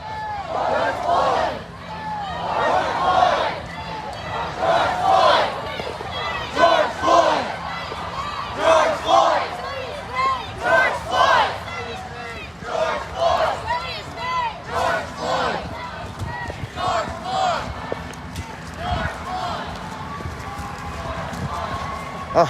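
Large protest crowd on a Charlotte, North Carolina street chanting George Floyd's name in loud, rhythmic repeated bursts, many voices together with shouting and crowd babble around, close and continuous.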